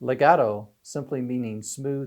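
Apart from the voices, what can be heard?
No everyday noise stands out behind the speech.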